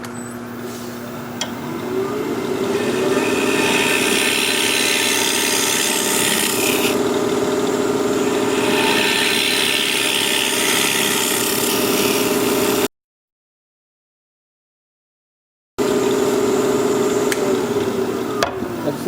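A tool scrapes a small live-edge cherry bowl spinning on a wood lathe, giving a loud, steady raspy whir under the motor's hum. A brief gap of silence interrupts it before the scraping resumes.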